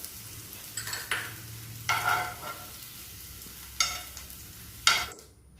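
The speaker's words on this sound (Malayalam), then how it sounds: "അപ്പോൾ നമ്മൾക്ക് ക്യാപ്സിക്കം ഒന്ന് ഫ്രൈ ചെയ്തെടുക്കാം." Green capsicum frying in oil during a student cooking competition, a close steady sizzle broken by several bursts of stirring and scraping before it cuts off.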